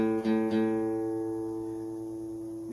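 An acoustic guitar's fifth string, A, is plucked for tuning, ringing out loud and close, sustaining with a steady even tone. A couple of quick re-plucks come near the start before the note fades gradually.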